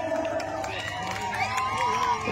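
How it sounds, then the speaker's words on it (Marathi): A large outdoor crowd at a wrestling bout in Ratnagiri roars and cheers with scattered shouts, a continuous dense wash of crowd noise with voices rising above it. "या कुस्तीसाठी एकदा जोरदार टाळ्या होऊ दे."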